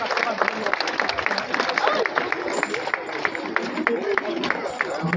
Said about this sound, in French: je pense que nos charrettes et nos chars méritent des applaudissements de votre part.